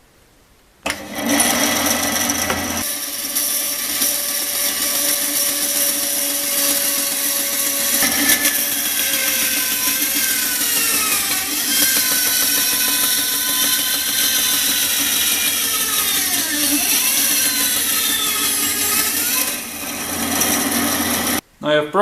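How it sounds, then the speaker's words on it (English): A bandsaw whines steadily through small pieces of mahogany, a loud continuous cut whose pitch bends and dips as the blade follows curves, ending abruptly when the cut finishes. "now I just need to cut them out on the bandsaw."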